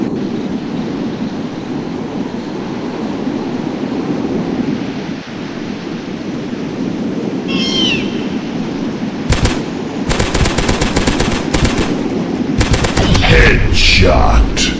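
Gunfire in the Dinosaurs Hunter video game: after a steady rumbling bed, bursts of loud rapid shots crack through the last five seconds, close and dense like sustained automatic fire.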